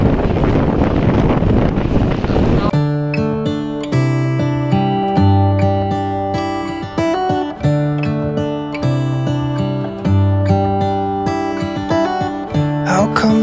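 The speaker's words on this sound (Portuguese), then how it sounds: "tá ventando muito." Strong coastal wind buffets the microphone as a loud, broad rumble on a drive along the Santa Catarina shore, then gives way to music playing for the rest.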